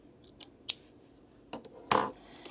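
Several sharp snips of scissors cutting sewing threads after they are pulled to the back with a card, short crisp clicks spaced irregularly with a louder cut near the end, close and alone.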